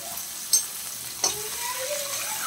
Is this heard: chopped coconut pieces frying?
yes